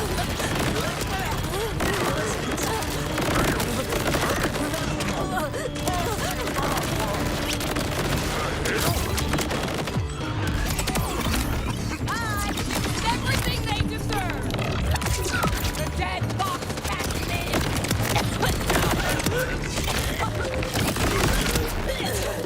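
Rapid gunfire from a PC game of Borderlands 4 played on hard difficulty at max settings, dense bursts of shots running throughout under a player's talking.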